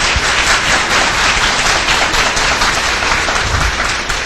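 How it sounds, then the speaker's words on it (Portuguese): A large audience at a Spiritist lecture applauding the speaker, Dona Edna, with loud, dense, sustained clapping that fills the whole stretch and fades slightly at the end. "Uma salva de palmas para a dona Edna."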